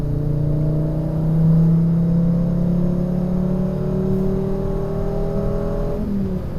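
A 2004 Volvo S60 sedan accelerates hard in third gear, its engine drone climbing steadily in pitch from up close before the note drops sharply near the end.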